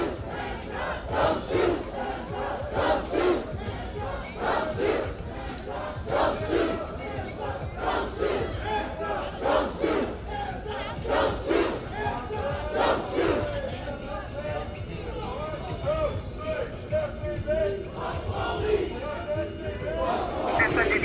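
A riled-up crowd of protesters at a street protest: loud, dense shouting and chanting that surges in repeated waves, with overlapping voices and cheers throughout.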